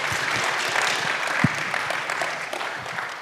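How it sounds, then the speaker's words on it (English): Audience at a blockchain conference in Bogota applauds its panelists with steady, dense clapping that holds evenly for several seconds. Faint voices sit underneath, and a single sharper clap stands out midway. "Applause."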